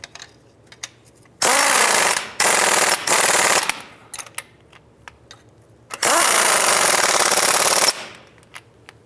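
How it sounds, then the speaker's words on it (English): Pneumatic impact wrench bursts tightening the differential mounting bracket bolts on a 2005-10 Jeep Grand Cherokee, three loud rattling runs of about one to two seconds each, close by, separated by quiet pauses with faint clicks. "Go ahead and snug these three bolts down."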